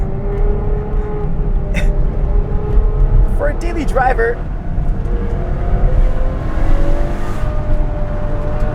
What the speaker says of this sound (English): pairing that handling experience up with that V12 sound